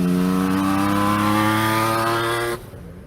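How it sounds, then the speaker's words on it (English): A Honda CBX motorcycle engine screams at high revs with a loud, sustained, race-car-like howl that holds steady, then cuts off sharply near the end, leaving a fainter fading rumble. "the Honda CBX was so much more than a motorcycle belting out an unholy Formula One sound."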